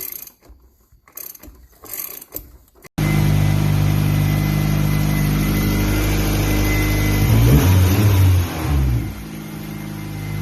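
Turbocharged single-cam Honda D16Y8 engine cranks after a few scattered clicks, then catches and idles steadily with a loud, close drone before a brief blip of revving near the end.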